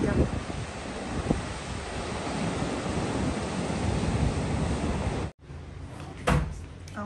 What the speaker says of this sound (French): C'est fou le vent qu'il y a.